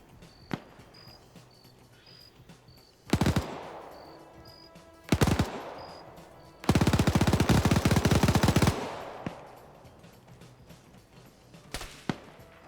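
Gunfire in a video game: isolated loud shots, then a sustained two-second machine-gun burst, with a faint repeating high beep and quiet ambience between.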